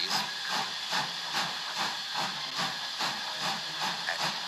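A steam locomotive puffs softly along, giving a rhythmic series of hissing chuffs at a steady even beat, close and continuous under a broad steamy hiss.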